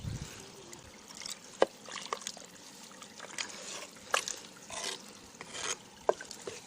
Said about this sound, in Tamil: இப்போ இதில் குழம்புக்கு தேவையான அளவுக்கு தண்ணி சேர்த்துக்கலாம்.